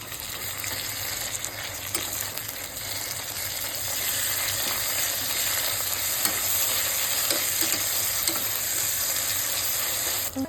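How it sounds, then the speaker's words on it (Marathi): Onion and tomato fry in a pan while being stirred, giving a steady close sizzle with scraping spoon strokes throughout, and no talking. "आता आपण परतणार आहोत कांदा"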